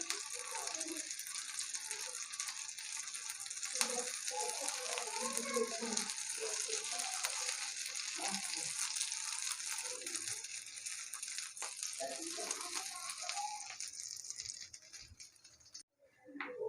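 Chicken shami kebabs frying in oil over low heat give a steady, soft sizzle and crackle that runs continuously before dipping near the end.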